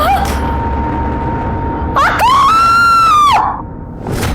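A woman's scream in a crime drama scene, a sharp high wavering cry lasting about a second and a half, loud and close after a quieter stretch with a steady tone in the background.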